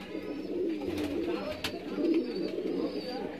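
Soft, low cooing of Rampuri pigeons, close by and continuous, with a busy murmur of background activity.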